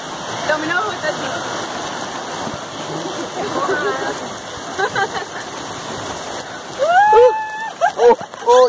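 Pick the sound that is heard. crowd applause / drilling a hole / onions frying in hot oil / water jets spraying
water jets spraying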